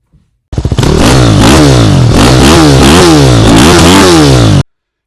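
A 2003 Yamaha WR250 motorcycle engine starts and runs loud and close, revving up and down in a steady repeating rise and fall for about four seconds, then cuts off abruptly.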